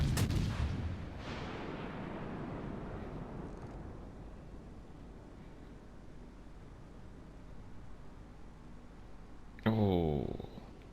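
A warship's main guns firing in World of Warships Legends: one heavy booming blast opens, its rumble fading over several seconds, and a second sharp burst of gunfire follows near the end.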